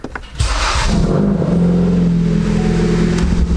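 A Ford Focus engine starts up after an oil change and then runs at a steady, fairly loud idle close by.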